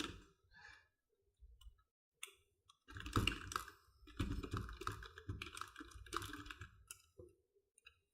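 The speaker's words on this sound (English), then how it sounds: "So I went ahead and put some text in here." Text is typed on a computer keyboard in quick, uneven bursts of close, crisp key clicks, broken by short pauses, with no talk.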